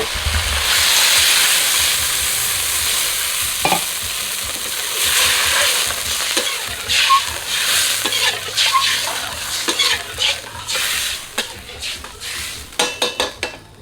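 Plain water splashes into a hot wok while Korat rice noodles are stir-fried with basil and crispy pork, giving a loud steady hiss and sizzle, followed by scraping and clinking of a spatula against the pan.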